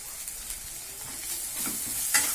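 Coriander and cumin powder frying in a pan for fish malai curry, a quiet steady sizzle with light stirring scrapes over about two seconds, no voices.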